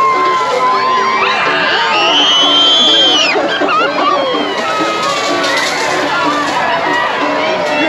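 A 4th of July crowd in Nantucket whoops, shrieks and cheers while fire trucks spray them with water, a loud, continuous babble of excited voices with high, rising yells throughout.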